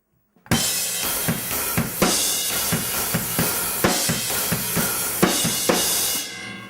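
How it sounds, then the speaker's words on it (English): Drum kit beat with a crash cymbal struck on every snare hit, loud and close, bright washing cymbal crashes landing in a steady, driving rhythm over kick and snare, played alone without talk. "what I'm doing is basically accenting every snare with a crash"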